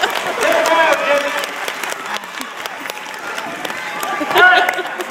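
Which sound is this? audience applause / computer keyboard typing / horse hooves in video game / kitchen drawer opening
audience applause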